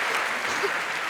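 A conference crowd at the 39c3 hacker congress claps in a short, loud, dense burst with a faint voice underneath.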